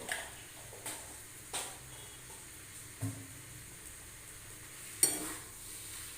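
Potatoes cooking in ghee are stirred, giving faint soft sizzling under a handful of spaced scraping clicks of a utensil against the pan.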